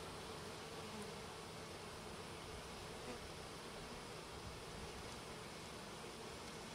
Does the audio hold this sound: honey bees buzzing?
yes